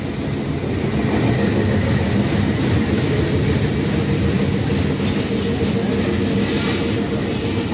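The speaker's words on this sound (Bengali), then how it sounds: "ঢাকা রেল স্টেশনে এসে পৌঁছালো খুলনা থেকে ছেড়ে আসা নকশিখাতা এক্সপ্রেস" The Nakshikatha Express from Khulna pulls into Dhaka railway station, a loud, continuous rumble of rolling wheels and wagons that holds steady from start to finish, with no voices.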